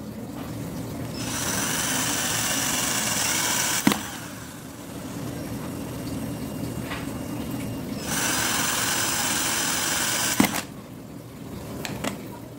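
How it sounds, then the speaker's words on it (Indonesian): A power drill bores holes into the case of a homemade jumbo LiFePO4 power bank, running in two sustained bursts with a short lull between. "Kita lanjut untuk melubangi. Ya, jadi langsung kita bor ya."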